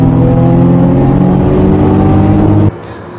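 Several racing cars accelerate hard side by side on a straight, a loud, steady multi-engine roar that rises in pitch together, then abruptly cuts away to a quieter engine hum near the end.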